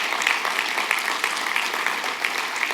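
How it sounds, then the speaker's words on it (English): A church congregation applauds youth pastors with steady, dense clapping throughout that is moderately loud and close, with no speech over it. "Give them a round of applause"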